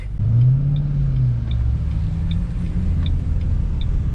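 A 2007 Shelby GT with stick shift and Hurst shifter rumbles along at low revs, deep steady engine note with a slight rise early on, close and loud, with faint regular ticking above.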